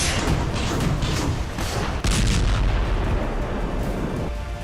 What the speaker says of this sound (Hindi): जेलेंस्की का टारगेट फायर